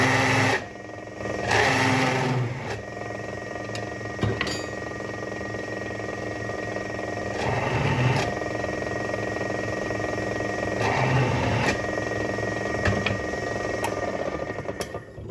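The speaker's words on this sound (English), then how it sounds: "The other thing we like to do is use this countersink bit and just ease those edges right there." A countersink bit eases the edges of forged V-bit blacksmith tongs, with a continuous high whirring drill tone and several surges of grinding as the bit bites into the steel.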